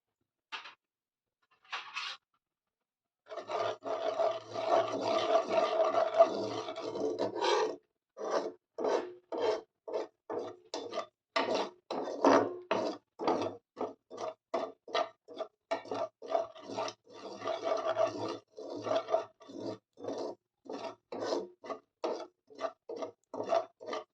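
Two spoonfuls of poppy seeds dry-roast in a pan over a gas flame, stirred in a close, rhythmic series of dry scraping rasps, with no voices over them.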